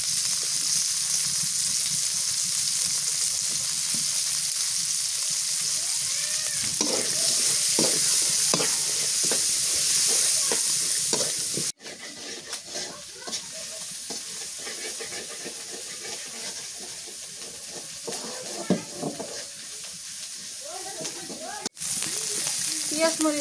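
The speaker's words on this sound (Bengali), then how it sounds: "পেঁয়াজ মরিচ ভাজা হয়ে গেছে" Sliced onion and green chili fry in a pan with a steady sizzle, broken up by scraping stirs, and the sound cuts out briefly twice along the way.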